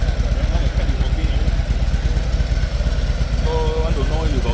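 A Harley-Davidson FXFBS Fat Bob fitted with a Zard exhaust runs with a steady, loud, close-up rumble, its pulsing engine note holding throughout as the throttle is worked.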